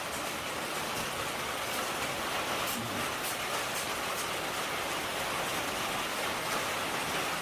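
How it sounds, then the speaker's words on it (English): Heavy rain pours down steadily outdoors, a dense, continuous hiss of drops drumming on surfaces with no pauses or voices. "Lots of rain today."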